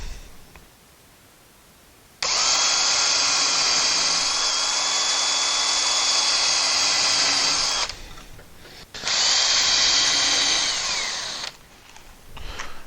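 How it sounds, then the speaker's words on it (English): A power drill countersinks number 6 by 1 1/4 inch Robertson screws into wood while building a built-in spice rack, giving two loud, steady whirring bursts, one of about six seconds and one of about three, with short pauses and no talk. "I'm just going to countersink some screws here."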